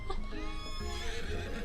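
Horse neighing in the video game I Love You, Colonel Sanders!, a loud close whinny with a quavering, wavering pitch, heard alone.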